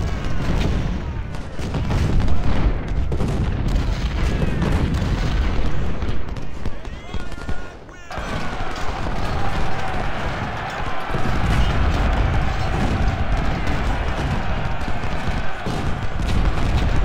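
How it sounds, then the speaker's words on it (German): Cannon and artillery fire across a Civil War battlefield in Ultimate General: Civil War, a dense, continuous rumble of booming shots and explosions with someone talking in German over it. "Los, Kanone, ihr müsst die da kaputt kriegen."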